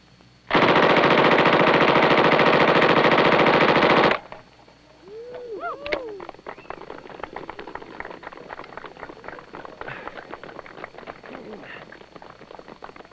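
An automatic gun fires one long, loud continuous burst at a playing card during a safety and quick-draw shooting demonstration, then stops abruptly, leaving quieter clattering and faint voices.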